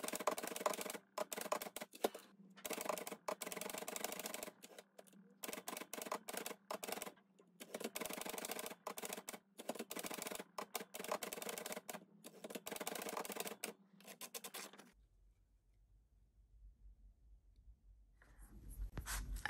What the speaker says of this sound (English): So I'm going to type this on my typewriter on a coffee dyed paper.